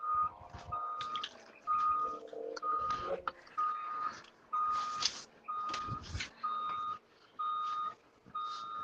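A snow plow truck backing up sounds a steady, regular series of loud reversing beeps. A low engine rumble runs beneath the beeps, which carry on for several seconds in a quiet snowy setting without any speech.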